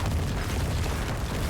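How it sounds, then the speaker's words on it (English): Necromancer corpse explosion in a video game, a loud, dense blast of rumbling noise that holds for its whole short length with no break or speech. "Look at the explosion."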